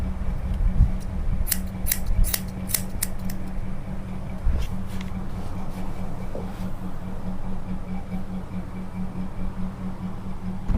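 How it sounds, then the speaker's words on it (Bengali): Salon scissors snip hair for a multi-layer haircut, a quick burst of close, crisp cuts early on followed by a few sparser snips over a faint background hum. "আজকে কিন্তু আমি হেয়ারটা আলাদা স্টাইলে কাটছি"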